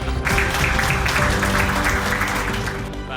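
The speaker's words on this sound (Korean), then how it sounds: "감사의 박수 올려드리겠습니다" Audience applause for outgoing university president Thomas Selover and incoming president Do Yeon-seop at a ceremony, a dense, steady wash of clapping held for about three seconds and easing slightly at the end.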